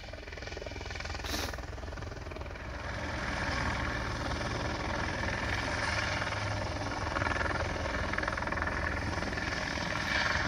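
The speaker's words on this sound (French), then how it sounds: "Yayou, c'est rien, c'est un hélicoptère" A helicopter drones steadily overhead in Spain, its rotor and engine noise filling the air continuously and growing slightly louder midway.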